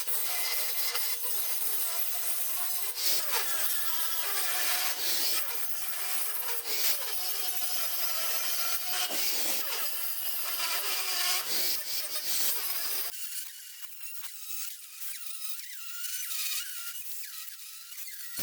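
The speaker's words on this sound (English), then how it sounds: "Now I'm just using a 40 grit wheel to grind these down." Grinder with a 40 grit wheel grinding down weld points on an expanded metal trailer tailgate, a steady harsh abrasive rasp that stays loud throughout and changes tone partway through.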